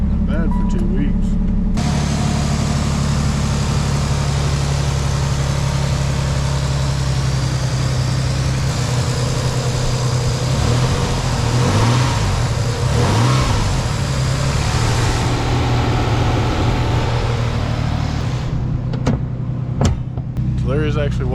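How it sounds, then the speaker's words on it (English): A Nissan 300ZX engine cranks and fires up after sitting for two weeks, then holds a loud, close, steady idle with revs rising and falling in the middle before settling, a voice speaking over it. "So let's see if this thing will fire up."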